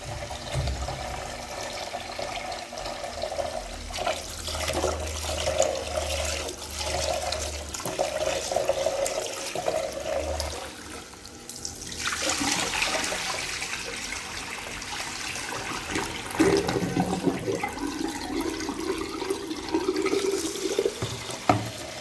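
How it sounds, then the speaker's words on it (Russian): Steady running water pours and splashes for a long stretch, with brief pauses and louder surges as rice is rinsed underneath. "вот так вот мою хорошо рис. Я 7 раз смываю воду"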